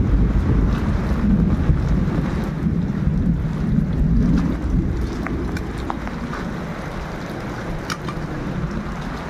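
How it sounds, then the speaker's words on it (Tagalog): Steady, heavy rain and gusting wind outdoors, a constant loud roar with buffeting on the microphone and no let-up, alone without talk. "Grabe ang ulan."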